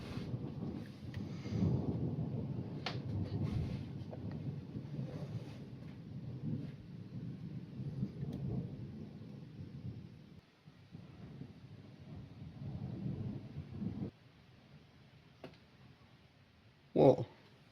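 Thunder from nearby lightning strikes rolls through a storm in long, heavy rumbles that gradually fade, then a sharp loud crack lands at the very end.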